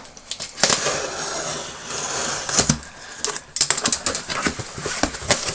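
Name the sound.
cutting open sellotape on a cardboard parcel box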